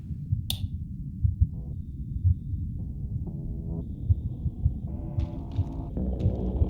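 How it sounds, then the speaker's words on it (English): Faint, regular heartbeat thumps pulse low and steady in a quiet room in Signalis, with a sharp click near the start and a few soft tonal hums drifting in and out. "if you stand really still in this room, you can hear the faint sound of a heartbeat"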